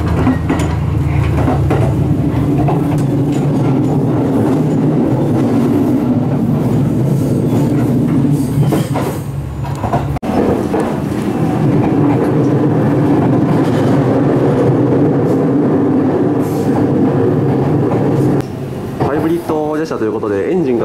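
An HC85 series hybrid limited express train on the Takayama Main Line rumbles along the rails with a steady low drone and electric motor hum, while someone talks continuously over it.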